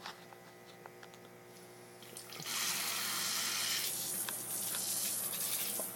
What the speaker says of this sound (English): All of these are micro sprinklers that shoot, it's hard to tell, but they all rotate in the middle and shoot tiny droplets out